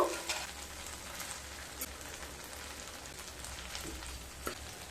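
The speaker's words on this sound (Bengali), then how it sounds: "এবার ভেজে রাখা পটলগুলোকে দিয়ে দেব।" Fried pointed gourd pieces hit a pan of cooked spices for doodh potol, setting off a steady close sizzle and frying crackle. Occasional sharper clicks and scrapes come through, and no one speaks.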